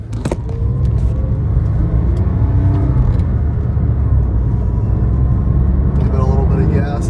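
High-mileage Porsche 997 engine running steadily while driving after warming up, a constant close rumble and whir from the cabin, with someone talking over it.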